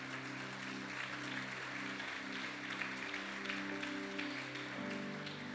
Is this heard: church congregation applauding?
yes